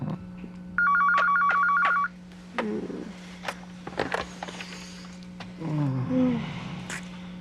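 A telephone rings in a scene from a soap opera, one electronic trill burst of about a second, loud and close, followed by quiet room sounds and brief voices.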